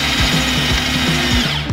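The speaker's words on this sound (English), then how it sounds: "I got a 90-degree drill." A 90-degree right-angle power drill whirs steadily up close, its motor pitch wavering slightly as it runs for a couple of seconds.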